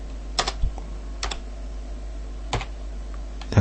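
Keys tapped on a computer keyboard while working in Mathcad, a few sparse, separate keystrokes close by over a steady low hum.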